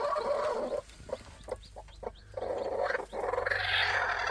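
Hens cluck and squawk close by in a village coop, with agitated bursts of clucking, brief pauses, then more loud fowl chatter.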